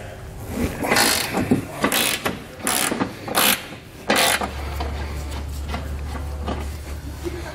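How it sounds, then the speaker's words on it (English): Ratchet fitted with an 18mm socket turns a bolt on a 2014 BMW X1 during hitch installation, in several quick bursts of close, crisp clicking, followed by a low steady hum. "We're going to take an 18mm socket. We're going to move this bolt right here."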